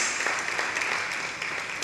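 Steady audience applause fills a forum hall at the end of a first afternoon presentation, a dense, even wash of clapping at moderate volume with no voices over it.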